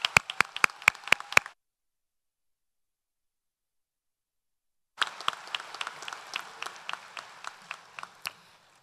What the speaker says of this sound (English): So another round of applause for our musicians.